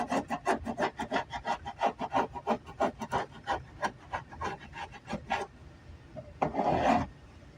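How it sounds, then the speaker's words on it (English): Dried wood filler is scraped off wooden dining furniture in quick rhythmic rasping strokes, close and steady for about five seconds, then a pause and one longer scrape. "So what we're going to do now is just kind of scrape this stuff off."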